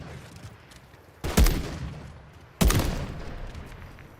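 Sniper rifle fire in a video game: two sharp, loud shots about a second apart, each with a booming tail, over a quiet background.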